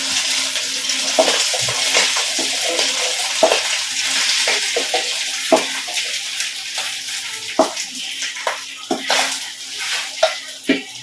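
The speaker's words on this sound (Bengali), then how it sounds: "সেই রাইসটা এই ঘি ও তেলের মধ্যে দেবো।" Cooked rice for a Maharaja polau fries in ghee and oil, giving a loud, close sizzle with repeated scraping stirs and utensil knocks against the pot, strokes growing more distinct and rhythmic toward the end.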